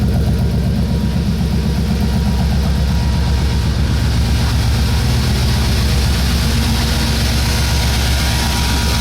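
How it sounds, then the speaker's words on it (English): A 1959 Corvette built as a supercar holds a loud, steady engine roar close up, a dense low rumble with no pauses throughout. "when you spool it up, you heard it when I revved it up"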